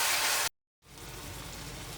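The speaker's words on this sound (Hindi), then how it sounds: "अब मसाले में थोड़ा थोड़ा पानी डाल लें" Soya bean tikka masala spices frying in a pan with a splash of water, giving a loud, steady sizzle that cuts out abruptly, then returns as a softer, continuous hiss.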